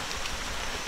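Heavy rain pours down in a forest, a brief dense hiss of falling water that stays even and close.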